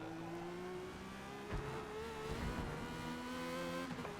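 A race car engine in the Forza Motorsport video game drones at a steady pitch, easing up and down with a brief change around the middle, fairly quiet and with no talking.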